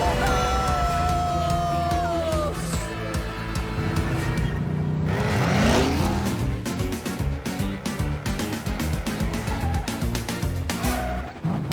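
An animated little race car and Thomas the tank engine race each other, engine revving and whooshing under music and character voices, with a sharp surge of motion noise midway.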